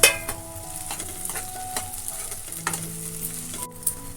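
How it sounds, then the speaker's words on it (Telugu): Slit green chillies frying with softened onions in a pan for an Andhra-style curry, a continuous sizzle under repeated spoon stirring and scraping, close up with no voices. "ఇప్పుడు దీనిలో మనం 1/2 డజను ఘాట్లు పెట్టిన పచ్చిమిరపకాయలు వేసుకుని వేయించుకోవాలి."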